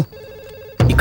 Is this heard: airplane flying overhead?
no